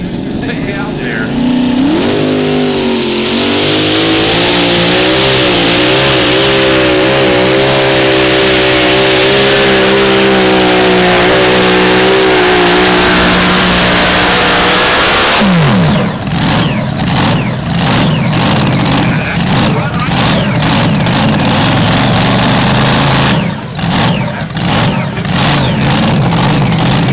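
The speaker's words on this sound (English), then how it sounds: "Tim Meisick with the ball out tractor. He's way out there." A modified mini tractor's engine at a tractor pull in Nashville roars loud and steady, its pitch climbing and holding through a long pull before breaking into choppy bursts, with an announcer talking over it.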